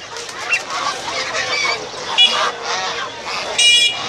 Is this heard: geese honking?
yes